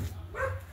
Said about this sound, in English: we have neighbor's dog